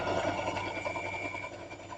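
A sewing machine stitches quilt squares together for a nine-patch block, a fast steady mechanical whir and clatter running continuously and close.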